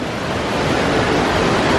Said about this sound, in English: There's a big waterfall behind us.